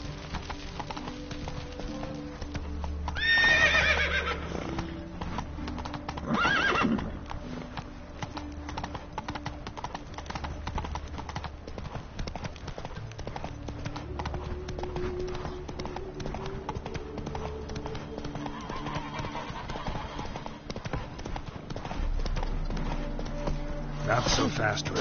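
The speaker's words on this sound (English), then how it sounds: "Not so fast, Roach. What's this step? Giddy up" Horse galloping in a PS4 video game, rhythmic clip-clop hoofbeats running steadily under game music and ambience, with someone talking over it at times.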